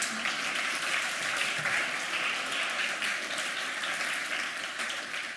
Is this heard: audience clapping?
yes